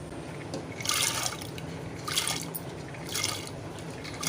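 Washed toor dal (split pigeon peas) tipped into water in a pressure cooker, giving three soft splashing pours with liquid dribbling between them, close and moderately quiet with no talk.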